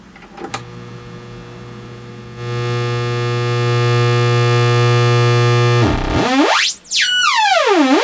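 A Joranalogue Eurorack modular synthesizer tone holds a steady buzzy harmonic drone, then swoops into rising and falling pitch sweeps, loud and alone with no talking.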